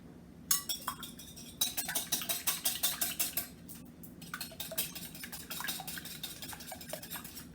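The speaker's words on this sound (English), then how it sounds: "I'm going to whisk them together so they become a unit" Eggs with salt and pepper being whisked in a bowl, producing bursts of rapid, rhythmic clinking strokes, close and fairly quiet, with a brief pause midway before the whisking resumes.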